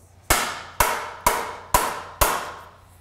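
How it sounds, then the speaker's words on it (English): Five sharp mallet taps on a bicycle crank arm being driven onto its spindle, evenly spaced about half a second apart, each a crisp close knock with a short decaying ring, no voices. "It may require some tapping with a mallet to encourage the arm to come all the way through."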